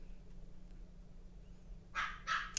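A pet dog barks in the background of a quiet room, two or three short yips near the end of the moment, fairly close but not loud.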